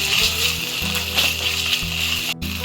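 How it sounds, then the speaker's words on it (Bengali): Ginger garlic paste frying among fried onions for biryani gives a loud, close sizzle with crackling bursts and scraping stirs, continuous throughout with no voices. "এবার এই পেঁয়াজের মধ্যে দিয়ে দেব আদা রসুন পেস্ট।"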